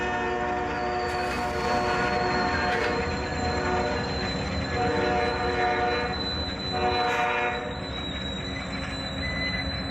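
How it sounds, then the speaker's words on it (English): A loud train rumbling past in Canova, West Virginia, with squealing wheels and a sustained horn tone, steady and close for the whole stretch. "This train accident happened in Canova, West Virginia."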